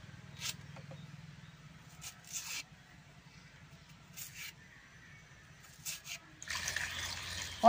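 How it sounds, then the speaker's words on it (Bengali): Raw green bananas are rinsed in water in a home kitchen, with soft intermittent splashes and trickling from a tap over a low steady hum, growing into a louder gush of running water near the end. "কলাটা এখন পরিষ্কার করে ধুয়ে নেব।"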